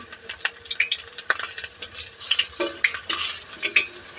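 Khesari lentil fritters frying in hot oil, a close, busy sizzle with crackling bursts and occasional spoon or pan clinks, no voices over it.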